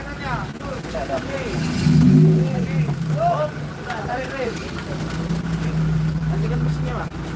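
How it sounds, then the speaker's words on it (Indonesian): Cars roll slowly onto the KMP Sumut 2 ferry at Tigaras on Lake Toba, their low engine rumble swelling and fading one after another, while people talk over the scene. "Ya, pelan-pelan mobil atrek satu-satu."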